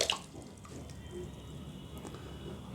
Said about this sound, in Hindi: तो आप देख रहे हैं थोड़ा सा पानी गिरा और फिर रुक गया।